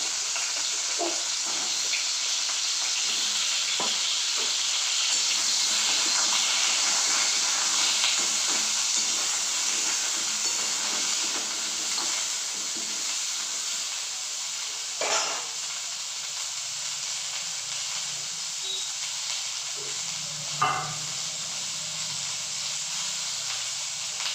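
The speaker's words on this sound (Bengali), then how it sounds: "যে পটলগুলো কেটে নিয়েছি, দিয়ে একটু ভেজে নেবো, একটু লাল লাল করে" Cut pointed gourd pieces frying in hot oil for a vegetarian curry, a steady close sizzle and hiss throughout with occasional faint stirring clinks.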